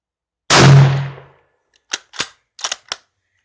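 A Yugoslavian M48 Mauser rifle fires at an outdoor shooting range: one loud, close shot with a long ringing decay, followed by several fainter, sharp reports in quick succession.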